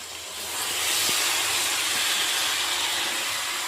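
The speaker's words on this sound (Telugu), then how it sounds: "ఉల్లిగడ్డ మగ్గింది. చికెన్ వేసుకుంటున్నా." Chicken pieces dropped into a pan of cooked onions for a chicken curry, a loud steady hiss of sizzling that swells within the first second and holds close up, with no talking.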